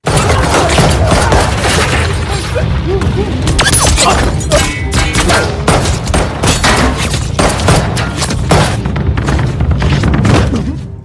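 Dense, sustained gunfire with rapid bursts and booming shots over a loud continuous rumble, close and chaotic.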